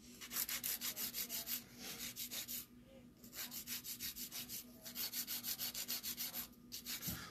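A file tapering the sidewalls of an acrylic nail makes quiet, rapid rhythmic rasping strokes in quick bursts separated by short pauses, close up and faint.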